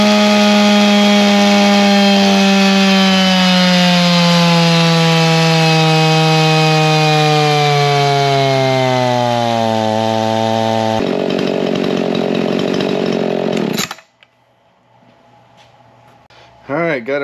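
A modified Echo 50cc chainsaw runs loud at high revs, its pitch sagging slowly for about fourteen seconds before it cuts out abruptly, leaving near silence and a brief rustle at the end.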